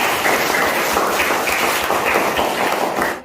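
An Indonesian high-school economics class applauds together, a steady, dense wash of many hands clapping close by, sustained evenly for about three seconds before cutting off.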